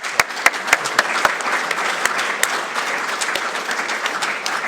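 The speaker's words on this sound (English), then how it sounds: "Let's give them a round of applause" Audience applause for school board candidates at a community forum, a steady dense clatter of many hands with a few sharper claps standing out near the start, filling the room without any talk.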